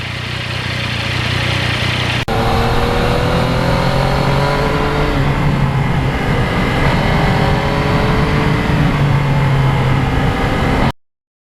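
A 2020 Yamaha MT-09 motorcycle riding along under clear skies, its engine droning steadily with rising and falling tones as it accelerates and shifts, loud and close throughout with heavy wind rush and a brief click early on.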